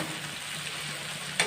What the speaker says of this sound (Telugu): మనకి తాలింపులో బాగా ఫ్రై అవ్వాలి